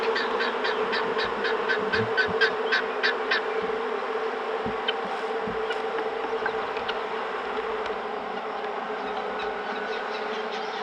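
Honey bee swarm around a hive on a homestead, a dense, continuous buzzing drone that fills the whole stretch, with a few brief sharper tones early on and faint knocks underneath, no one speaking.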